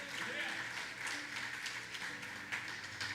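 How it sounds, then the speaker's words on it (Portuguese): Church congregation applauding during a worship service, a faint, even patter of clapping heard under a voice speaking. "vamos aplaudir o Senhor"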